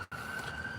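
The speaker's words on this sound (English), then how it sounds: "as the ambulance goes by" An ambulance siren sounds as it passes outside an anglers' meeting for a fishing tournament, a steady wailing tone that holds loud and continuous after a brief dip.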